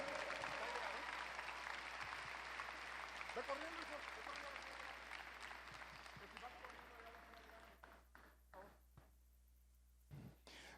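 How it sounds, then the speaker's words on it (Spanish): A church congregation claps together in sustained applause that gradually thins out into a few scattered claps, heard from across a large worship hall. "Alguien dele un aplauso fuerte"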